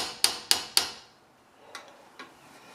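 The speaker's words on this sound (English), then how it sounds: "just before I use the rivet snap, I just like to do a gentle tap" A hammer gives three quick, evenly spaced taps on a rivet before the rivet snap is used, crisp and close, followed by two fainter light knocks.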